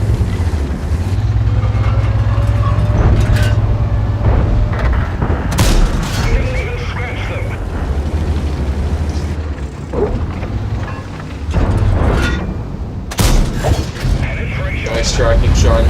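Tank cannon fire in the World of Tanks video game, heavy booming shots landing at intervals among mechanical clanks and track rumble, with a voice talking over much of it.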